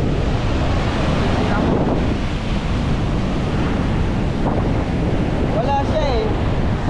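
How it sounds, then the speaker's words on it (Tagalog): Large sea waves surge toward shore during super typhoon Uwan, a loud continuous roar of surf mixed with heavy wind buffeting the microphone throughout. "Lumaki na ulit ang dagat, oh. Palapit na palapit."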